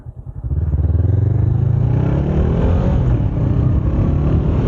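A Honda CBR500R motorcycle engine rumbles loudly and steadily after a brief rev-up, with the rider on cold, freezing, wet roads around 31 degrees; the drone holds constant close-up throughout without talk.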